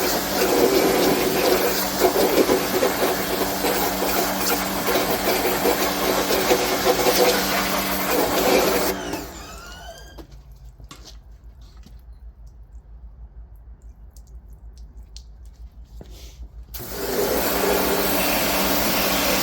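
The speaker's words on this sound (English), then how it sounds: "we'll get the pressure washer here going" A pressure washer sprays water near a garage while cleaning an abandoned 1965 Mercury Comet, its loud hissing roar with a pump drone running for several seconds, cutting out to near silence, then starting again.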